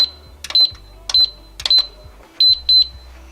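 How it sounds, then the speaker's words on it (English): Electronic keypad of a solid steel quick-access pistol safe beeping during code programming: several short, sharp, close tones in pairs and singles, with quiet handling and someone speaking between them. "beeps 2 times. You gotta do it again."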